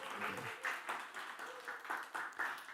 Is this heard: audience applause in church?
yes